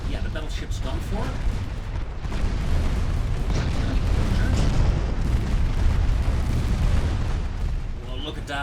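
Naval gunfire in Ultimate Admiral Dreadnoughts, a warship battle game: a continuous rumbling barrage of booming cannon blasts and explosions, loud and dense throughout, with a voice talking over it.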